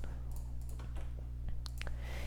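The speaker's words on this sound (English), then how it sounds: "I'm going to be typing this code into my online Python compiler," Python code typed on a computer keyboard, a quiet run of irregular key clicks over a low background hum.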